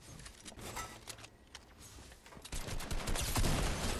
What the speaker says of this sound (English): I was shooting the floor thinking they were downstairs.